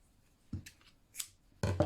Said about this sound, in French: Je coupe le fil